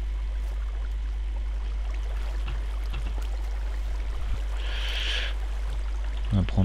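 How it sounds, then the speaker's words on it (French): Flowing water in Minecraft makes a steady, continuous rushing hiss throughout, with a brief brighter splash near the end and no talking. "y a de l'eau partout là"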